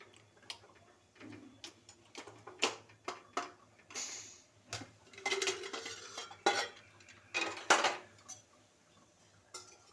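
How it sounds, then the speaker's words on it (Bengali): Metal clatter of a pressure cooker lid being opened and handled to check boiled peas (matar) for chana masala, with scattered clinks and knocks and a short rush of released steam, close by, with no talking. "এরপরে খুলে দেখি ভাপটা মরে গেছে। এরপরে মটরটা সিদ্ধ হয়ে গেছে নাকি দেখি"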